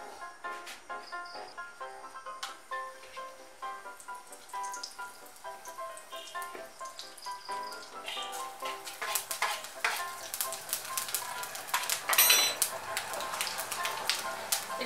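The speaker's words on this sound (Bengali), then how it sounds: "তেলটা গরম হলে এর মধ্যে আমি শুকনো লঙ্কা, তেজপাতা আর পাঁচফোড়ন ফোড়ন দেব।" Dried red chilli, bay leaf and panch phoron crackle in hot oil for a Bengali pumpkin dish; the frying grows into a bright, spattering sizzle partway through, with soft background music.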